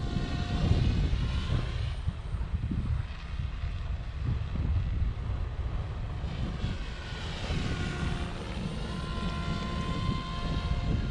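An OMPHOBBY M4 MAX RC helicopter flies steadily with a continuous rotor and motor whine, its pitch swelling and shifting as it passes, with wind noise on the microphone and no talk.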